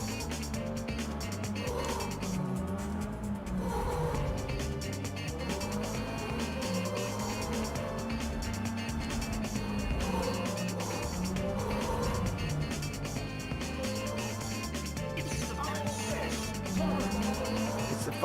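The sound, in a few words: racing cars in a PlayStation Classic racing video game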